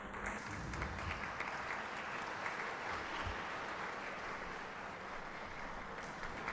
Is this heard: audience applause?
yes